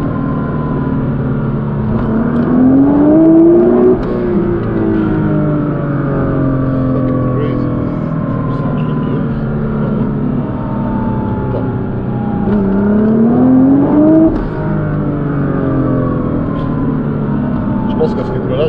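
An 1800 hp Nissan GT-R accelerates hard from low revs in second gear, its engine note climbing loudly in two strong rising surges that fill the whole stretch.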